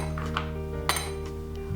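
Ice cubes dropped into a glass jar of sparkling water and apple juice with crushed mint, giving a brief bright clink over steady background music.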